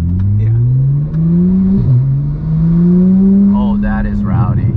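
A turbocharged 800 hp Porsche GT3 Cup car built for the street accelerates hard. Its engine note climbs loud and close through a gear change, and voices react over the engine near the end.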